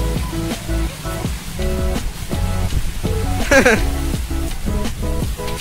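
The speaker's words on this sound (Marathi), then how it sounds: "लय पाऊस आता स्टार्टिंग झाली पावसाची" Heavy rain pours down in a steady, broadband wash, with voices talking loudly over it throughout.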